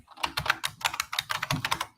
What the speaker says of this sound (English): You'll hear my keyboard. Clickety clackety, clickety clackety.